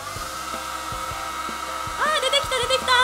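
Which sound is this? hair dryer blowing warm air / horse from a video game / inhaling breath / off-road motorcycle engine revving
hair dryer blowing warm air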